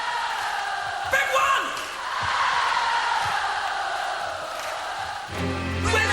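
A large concert crowd at a performance with the Melbourne Symphony Orchestra cheers and roars loudly from a played recording, a broad sustained wash of noise swelling and holding throughout.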